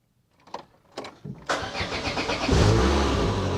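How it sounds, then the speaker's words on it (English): An old car in a seaside garage cranks over with a few stuttering turns of the starter, then its engine catches and settles into a loud, rumbling idle nearby. "Let's try to start the car."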